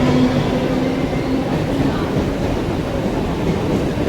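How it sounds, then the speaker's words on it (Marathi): Slow local train at a Dadar railway station platform in Mumbai, a steady loud rumble of rolling rail cars with a brief tonal hum early on, no talk heard. "इथून ट्रेन सुटतात."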